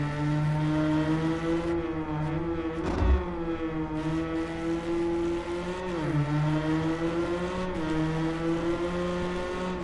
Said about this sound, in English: has a great sound, that Ford